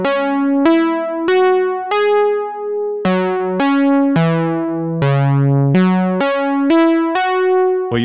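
DIVA software synthesizer in poly 2 voice mode playing a melodic line of bright, plucky tones, each note's release abruptly cut off when the next begins, clean and alone with no voice.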